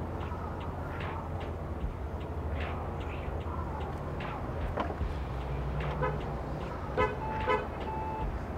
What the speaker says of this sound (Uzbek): mana o'zi mashinani signal berishni boshladi va mana mashinani avtomatikchisi o'zi ochdi